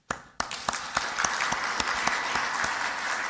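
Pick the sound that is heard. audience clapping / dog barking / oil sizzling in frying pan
audience clapping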